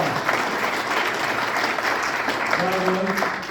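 Guests at a Busan civic committee launch ceremony give steady welcoming applause that continues throughout, with a voice briefly heard over the clapping.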